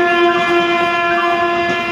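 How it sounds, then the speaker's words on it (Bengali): A through train passes platform four at a suburban railway station, its horn sounding as one loud, steady, sustained tone close by for the whole stretch, with no voices over it. "চার নম্বর প্ল্যাটফর্ম দিয়ে থ্রু ট্রেন যাবে"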